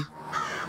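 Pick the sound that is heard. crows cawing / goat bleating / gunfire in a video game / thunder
crows cawing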